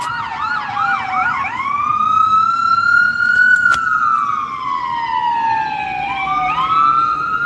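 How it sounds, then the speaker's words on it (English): A loud, close ambulance siren sweeps up and down in pitch, with a quick yelping burst at the start and again near the end. "Oh, it was the ambulance from earlier."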